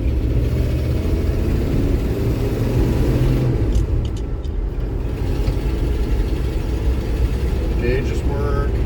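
A 1969 Ford Ranger F250 pickup truck idles with a steady, loud low rumble of its engine that runs unbroken throughout, with only faint sounds above it.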